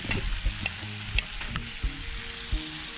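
Vegetables sizzle in butter on a Firebox prototype hot box, a steady close frying crackle with occasional scraping stirs and clinks of a utensil.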